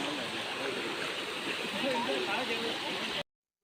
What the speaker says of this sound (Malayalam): വീണ്ടും അടുത്തൊരു അരുവി എത്തി. അത്യാവശ്യം നല്ല ഒഴുക്കുണ്ടായിരുന്നു അവിടെ.